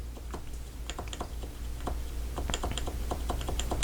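Keys pressed on a Leopold FC660C Topre keyboard give crisp, muted thocks in an uneven series of separate presses, close and clear over a low steady hum, with no speech.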